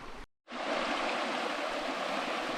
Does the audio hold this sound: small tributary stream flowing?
yes